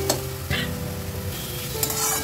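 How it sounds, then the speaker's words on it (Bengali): Fish curry sautés in tomato sauce in a pan, a steady close sizzle with a few scraping stirs of a spoon, no voices over it. "এইটা দিয়ে ভালো করে কষিয়ে জল ঢেলে দেবো।"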